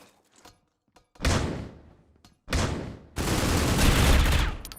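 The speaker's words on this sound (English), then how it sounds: "Oh, Mirage, nice shot through the smoke" Gunfire during a C-OPS match, several sharp loud bursts of rapid shots separated by short gaps, the last volley longest and densest, with faint game ambience between.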